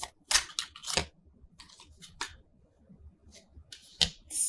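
Tarot cards are shuffled overhand in a series of quick, crisp riffling bursts with short pauses between, close and fairly quiet.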